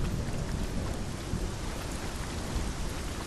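Heavy, steady rain pours in a dark nightmare landscape in Hellblade: Senua's Sacrifice, a dense close wash of falling water with low thunder rumbling underneath throughout, no voices.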